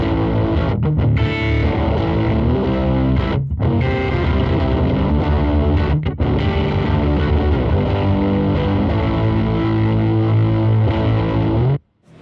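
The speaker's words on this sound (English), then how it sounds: "So that's the distortion side of the Compugilist." Electric guitar played through the distortion side of a Fender Compugilist analog pedal with the gain turned all the way up, giving loud, sustained, heavily saturated chords with brief gaps before the last one cuts off.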